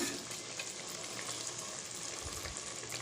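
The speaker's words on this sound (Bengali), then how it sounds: "ভাজতে ভাজতেই আলু আর ডাটা অনেকটাই নরম হয়ে গেছে" Potatoes and vegetable stems frying in a pan, a steady close sizzle running throughout with a soft stir or clatter near the end.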